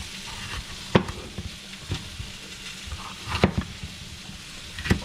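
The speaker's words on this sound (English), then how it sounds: "We're going to add that right to our onion. It's cooking on the flat top." Onion and steak sizzling on a flat top grill for fajitas, a steady broadband fry under several sharp scraping and stirring clicks from a spatula, close and moderately loud with no talking.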